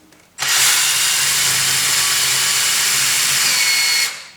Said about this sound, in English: I'll take my drill and drill a hole.